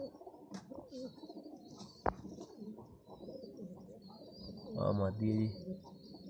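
Fancy lucky pigeons softly cooing in short bursts near the end, faint and close, with someone speaking in Hindi-Urdu over them and a sharp click partway through.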